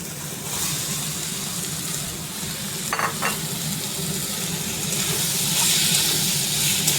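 Ivy gourd and prawns with ground spice paste sizzle steadily in a hot pan, a continuous frying hiss with brief scraping stirs, close and alone without talk.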